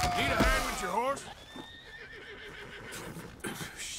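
A horse in Red Dead Redemption 2 lets out a loud, close whinny at the start, followed by quieter snorting and hoof sounds, with someone speaking over it.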